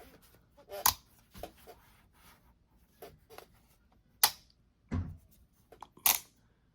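A swiveling light from a vehicle everyday-carry kit gives several sharp, close plastic clicks and ratcheting snaps at irregular intervals with quiet gaps between them.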